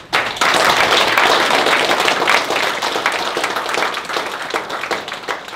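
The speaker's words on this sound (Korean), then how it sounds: "여러분 박수로 환영해 주십시오" An audience at a book launch event claps in a burst of applause that begins abruptly, holds loud and dense with sharp individual claps, then gradually thins toward the end.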